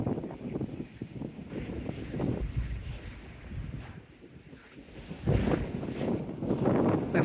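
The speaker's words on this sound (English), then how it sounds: "on this blowy morning," Gusty wind buffeting the microphone on a blowy morning at a coastal point near a ferry, loud uneven rumbling gusts that ease off briefly before surging again.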